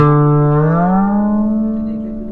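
A sustained string note on a fretless instrument glides smoothly upward in pitch, then holds and gradually fades, rich in overtones with a slight reverberant tail.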